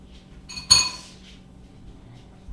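Metal mixer beaters tossed into a kitchen sink land with one sharp bright clatter, followed by a short ringing decay in an otherwise quiet kitchen.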